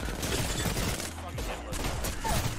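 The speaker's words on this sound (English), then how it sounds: "it can immediately give me a jump on this Ash player to shoot her in the back" Rapid gunfire during a fast-paced shooter match, moderately loud bursts of shots over busy game sounds, with a voice talking over parts of it.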